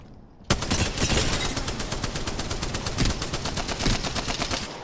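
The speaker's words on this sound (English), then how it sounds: "Here we go. Carbine." Rapid automatic carbine fire in Apex Legends, a fast regular stream of sharp shots running nearly the whole time after a brief quiet start, loud and close.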